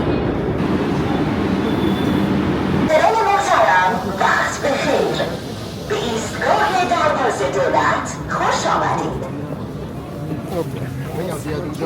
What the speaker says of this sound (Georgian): აი ეს არის მეტრო თეირანი.